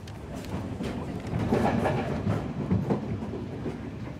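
A passenger train running on a Sri Lankan railway rolls along steadily with a continuous low rumble and faint rhythmic wheel clatter, close by and fairly even in loudness throughout.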